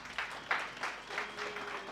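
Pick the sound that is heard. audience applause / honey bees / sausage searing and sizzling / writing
audience applause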